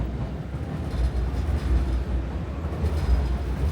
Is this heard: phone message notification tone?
no